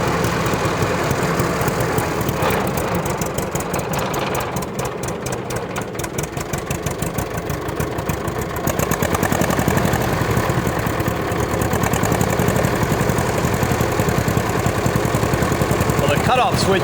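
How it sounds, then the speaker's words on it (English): A 1940 Minneapolis-Moline RTU tractor engine runs steadily close by after a kick-start, its low idle chugging on throughout with a slight rise in loudness partway, and no words spoken over it. "So it starts up just fine when it's kick-started."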